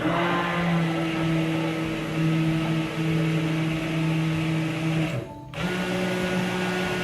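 A stick blender whirs steadily as it blends bulletproof coffee, a close continuous motor drone with a short dip in pitch near the end.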